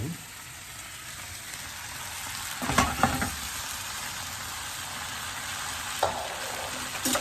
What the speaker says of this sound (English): we're going to throw some spinach in